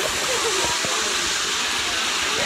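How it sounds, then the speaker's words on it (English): A waterfall on a hiking trail roars as a loud, steady broadband rush of falling water that fills the whole clip, with faint voices barely showing beneath it. "Alright, so we finally arrived at the waterfall."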